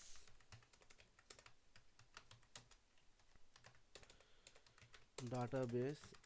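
Keys on a computer keyboard clatter in quick irregular bursts as an SQL create database command is typed, close and light, with a short hum of voice-like sound near the end.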